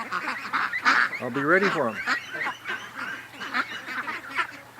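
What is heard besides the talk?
ducks quacking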